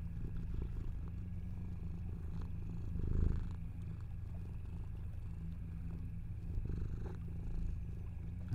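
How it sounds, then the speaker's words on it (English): A domestic cat purrs very faintly and steadily close to the microphone, a low soft rumble with a slightly louder swell partway through. "let's see if you guys can hear her purr."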